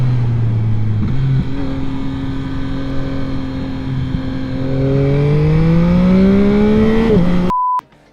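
A 2022 Yamaha MT-09 SP motorcycle rides through twisty roads, its engine a steady loud drone whose pitch holds, then climbs as the bike accelerates, before a short beep and a sudden cutoff.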